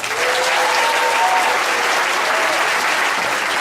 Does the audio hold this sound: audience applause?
yes